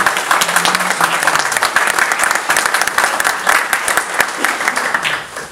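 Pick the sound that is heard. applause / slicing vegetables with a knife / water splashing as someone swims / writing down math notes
applause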